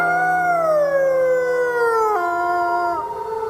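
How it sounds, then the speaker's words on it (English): A single red wolf lets out a long, clear howl that slides downward in pitch, with a brief break before a final lower tail, loud and close with no other sounds. "Red wolves can freaking howl."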